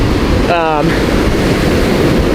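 Ocean waves break on a beach where people are grappling on sand and in the water, a loud, steady surging roar with a brief voice cutting in near the start.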